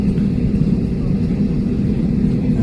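An airliner's engines drone steadily as it taxis and turns around on the runway, a loud low rumble with a person talking over it.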